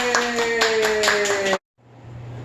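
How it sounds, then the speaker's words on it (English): A burst of enthusiastic hand clapping follows a children's story reading, several quick close claps with a cheerful voice over them, then an abrupt cut to near silence. "Can we clap, Candy?"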